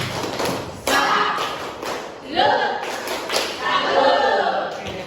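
Classroom students perform a rhythmic clap routine, sharp synchronized bursts of clapping and thumps in a patterned sequence, with voices chanting along between the claps.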